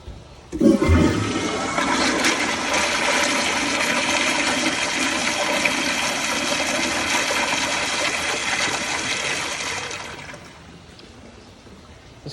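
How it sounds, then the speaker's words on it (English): A Kohler Kingston wall-mount toilet flushed by a Zurn Aqua Flush flushometer gives a loud, sustained rushing flush from a sharp start, running steadily for about nine seconds before fading away, with no talking. "For now, I'm just using a Zern Aqua Flush flushometer."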